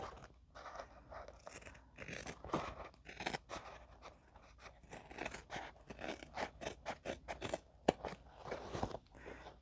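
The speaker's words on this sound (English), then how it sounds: "I'm gonna make a snip so I can open my seam" Scissors snip through a fabric seam while a crossbody bag is being sewn, giving a string of short, crisp cuts and crunchy scrapes close to the listener, with faint rustling between the snips.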